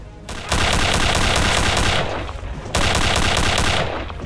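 Sustained automatic gunfire in Return to Castle Wolfenstein, with Panzerfaust rockets in the fight, comes in two long, loud, continuous bursts separated by a brief lull.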